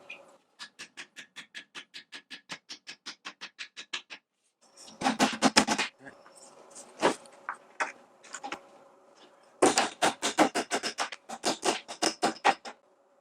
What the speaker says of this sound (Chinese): 找锤子一类的东西把它敲进去。